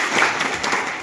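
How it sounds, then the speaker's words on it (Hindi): Audience applause at a school children's parliament event in a village panchayat program, a brief burst of scattered clapping at moderate loudness with voices mixed in. "एक बार जोरदार ताली से"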